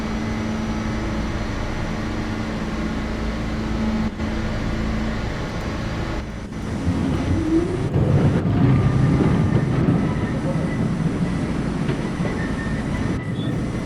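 An R40 Slant subway car on the C local line in a rail simulation game rumbles steadily with a constant motor hum, then a rising whine and louder clattering as it gathers speed, heard from inside the car.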